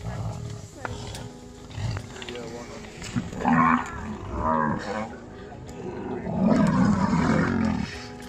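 Lions at a buffalo kill in Malamala Game Reserve, Greater Kruger, give loud, close growling roars in repeated bursts that grow heavier toward the end, mixed with animal calls.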